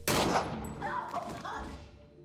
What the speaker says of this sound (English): they shoot him dead